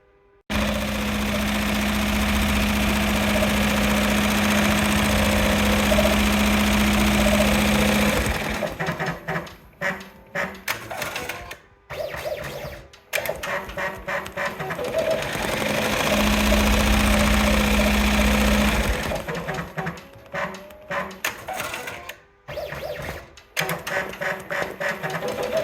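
A home embroidery machine stitches a pumpkin-shaped pouch in the hoop, a fast steady mechanical whirring hum that runs loud and continuous, stops briefly with scattered clicks and rustles, then resumes its even buzzing drone.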